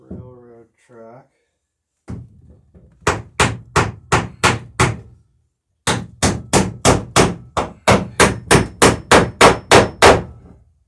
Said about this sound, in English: I've also got a backing block out here too to hammer against.